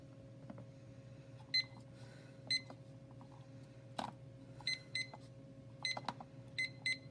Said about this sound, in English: So I'm going to set a timer.